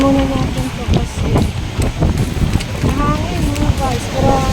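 Strong wind buffets the microphone on a roadside, a loud continuous roar and rumble with gusty swells, while faint voices can be heard underneath.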